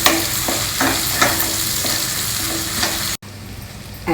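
Sliced onions fry in a pot, sizzling steadily up close while a utensil stirs them in repeated scraping strokes, followed by a short break and then quieter sizzling.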